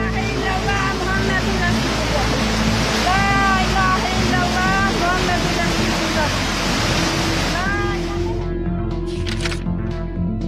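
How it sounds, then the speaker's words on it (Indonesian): A flash flood torrent roars loudly and without a break as it sweeps tree trunks along. Shouting voices rise over the rushing water before the noise thins near the end. "Bahkan banyak batang pohon yang terseret arus deras dari banjir bandang"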